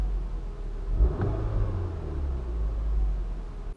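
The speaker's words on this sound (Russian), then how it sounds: "нажму на акселератор" A car engine revs briefly as the accelerator is pressed, a low rumble that rises sharply then settles into a steady idle-like drone, close and alone without speech.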